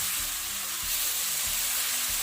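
Okra and potatoes cook with soy sauce in a pan for dhaba-style aloo bhindi, producing a constant hissing sizzle with a few soft low thumps from stirring, close up and without speech.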